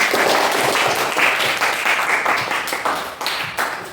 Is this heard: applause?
yes